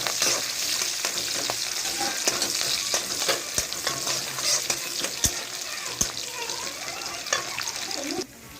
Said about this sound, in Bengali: কাঁচা লঙ্কা চিরা, এটিকে ভালো করে ভেজে নেব।